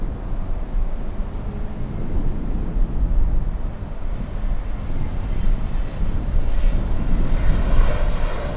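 American Airlines flight 1629 on final approach to the runway at Miami International Airport: a loud, steady jet engine roar, a low rumble that swells slightly as the airliner draws closer.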